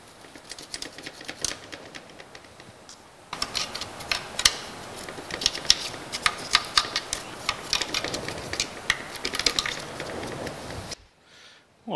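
Cleaning between the keys of an antique Remington Rand typewriter, with rapid scratchy brushing, light clicks and rattling of metal parts up close, preceded by a quieter stretch and ending abruptly.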